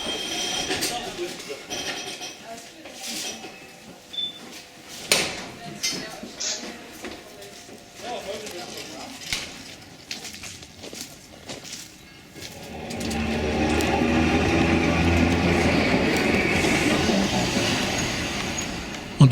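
A Rittner Bahn narrow-gauge train in South Tyrol pulls away. Mixed outdoor noise and scattered clatter come first, then a steady, louder rumble of the moving train builds and holds to the end.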